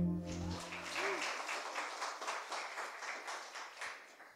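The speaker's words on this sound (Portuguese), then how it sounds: "Você pode aplaudir o Senhor?" A church congregation applauds together, a soft, even wash of clapping that starts after a fading held tone and continues steadily at a modest distance.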